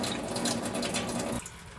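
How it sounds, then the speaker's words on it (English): Water runs steadily from a kitchen tap while a reverse osmosis tank drains, a loud close hiss and splash that cuts off abruptly near the end, leaving a quieter lower trickle. "We're gonna turn the water on and let it run until it comes down to a slow trickle."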